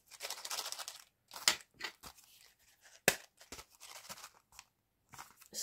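Scissors snip through craft paper or ribbon in a run of short, dry cuts with pauses between them, close and fairly quiet, with no voices.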